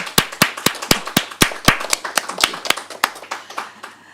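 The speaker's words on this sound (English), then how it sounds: "Let's do a round of applause for the staff." A small group claps at the close of a council meeting, roughly twenty sharp, separate claps in an uneven rhythm that thin out toward the end, close by and with no talking over them.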